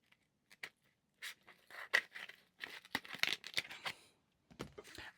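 Bursts of crinkly tearing and ripping at close range as a pack of four pencils is pulled open, with short pauses between the rips.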